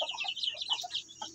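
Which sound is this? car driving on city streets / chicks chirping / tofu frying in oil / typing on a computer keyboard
chicks chirping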